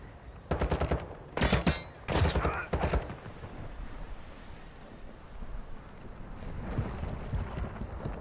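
Bursts of automatic gunfire in Warzone 2.0 DMZ, several loud rapid volleys clustered in the first few seconds, then quieter scattered shots and background rumble.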